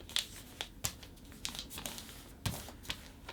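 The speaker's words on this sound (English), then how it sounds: "see this edge right here needs to get folded right along that edge right there" Sheet paper being folded into a paper airplane gives off sharp, close crinkles and crisp creasing snaps, scattered irregularly with quieter rustling between.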